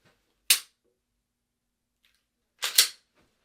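Two sharp pistol shots fired during a shooting skills test, the first alone near the start and the second a louder, slightly doubled crack about two seconds later, with quiet between them.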